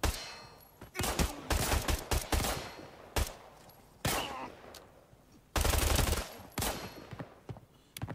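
Gunfire in the shooter video game Area Breakout, loud repeated bursts of shots with short pauses between them, some rapid volleys and some single shots.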